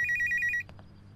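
Telephone ringing with rapid, trilling electronic rings in about six short pulses, loud and close, then stopping abruptly.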